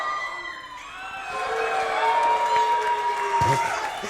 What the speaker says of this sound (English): This crowd of Lenny Boys booing who got the shirt.